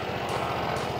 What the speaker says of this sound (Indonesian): Suara knalpotnya sih senyap ya